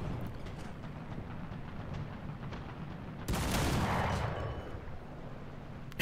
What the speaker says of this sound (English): Not sure why I bothered shooting at the Matilda there.